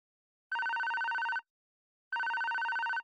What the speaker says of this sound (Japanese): 電話のベルの音でハッと目が覚めた。